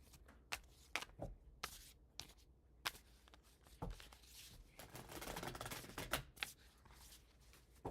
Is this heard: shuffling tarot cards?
yes